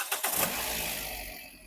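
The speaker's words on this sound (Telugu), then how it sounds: "సింగిల్ సెల్ఫ్లో బండి స్టార్ట్ అవుతుంది" A 2011 Toyota Etios G petrol car with a newly fitted engine starting on a single crank, a brief whirring cranking burst that catches into a smooth, steady idle, close and without talk.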